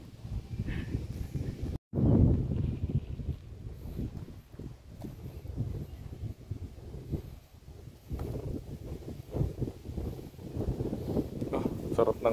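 Wind rushes and buffets across the microphone in a steady outdoor roar at Rockwood Park, Saint John, New Brunswick, with a sharp dropout near the start and faint rustling throughout.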